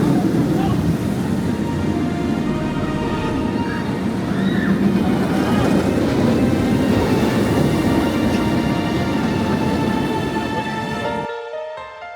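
The VelociCoaster roller coaster train at Universal Orlando thunders along the track in a loud, continuous roar that fades in its last second, with people talking over the rumble.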